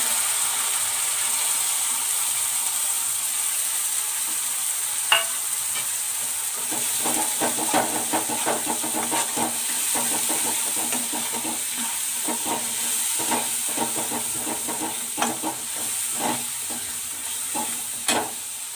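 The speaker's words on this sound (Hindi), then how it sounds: "अब हम ये जो राई या सरसों, जीरा और रेड चिली का पेस्ट बनाया था, इसे हम यहाँ डाल देंगे" Mustard seeds, cumin and red chili paste hit a hot pan and sizzle steadily, with a run of quick scraping and clicking stir strokes building up partway through.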